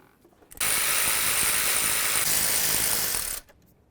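A ratchet spins steadily for about three seconds on a throttle body mounting bolt of a 2006-2010 Ford Explorer, a close, continuous buzzing clatter that starts and stops abruptly.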